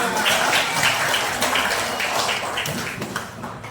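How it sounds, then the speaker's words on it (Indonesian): Classroom of fifth-grade primary school pupils clapping together, a steady, dense patter of many small hands, loud and close, easing off slightly toward the end. "Tepuk tangan untuk kita semua."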